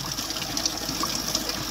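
Water runs continuously for sheep to drink, a steady close gushing trickle without breaks and with no talking.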